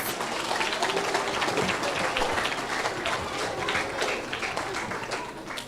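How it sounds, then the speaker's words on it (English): Audience clapping at a 5th grade awards ceremony, a dense, steady round of applause from a crowd that fills the whole stretch without a break. "Give them another round of applause."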